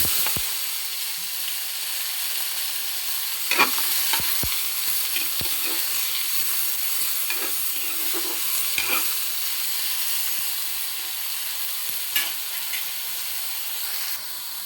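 Ginger, tomato, onion and lemongrass sautéing in oil in a pan, a steady loud sizzle and hiss with a few stirring clinks and scrapes, no talking.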